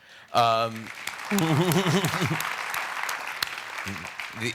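Applause breaks out from an audience at a street art talk, a steady wash of clapping with a laughing voice over it and brief bursts of speech near the start and end.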